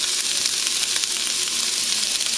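Onions and garlic sautéing in a hot pan, a loud, dense, continuous sizzle and crackle close up, with no talking.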